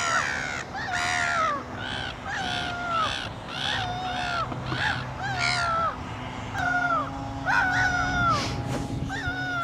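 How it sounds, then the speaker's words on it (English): Seagulls at Yarmouth harbour on the Isle of Wight scream at one another in a steady run of loud, repeated squealing calls, close and overlapping above a low hum of background noise. "The seagulls are screaming at each other."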